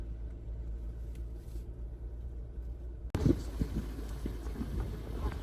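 A car drives slowly in search of parking near a botanical garden in Hawaii, its low road rumble steady and muffled, then abruptly louder and rougher with cabin noise partway through.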